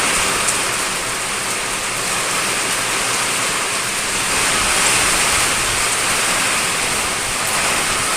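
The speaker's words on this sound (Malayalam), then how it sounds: "മഴ നല്ല പോലെ പെയ്യാൻ തുടങ്ങി." Heavy rain pours down in a dense, unbroken roar of water, loud and steady throughout with no voices.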